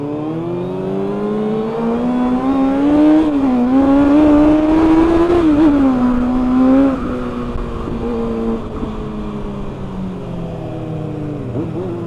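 Several sport motorcycle exhausts, a BMW M1000RR, a Suzuki Hayabusa and a Kawasaki ZX6R, rev loudly and steadily nearby, with rising and falling engine pitch peaking midway before settling into a sustained idle roar.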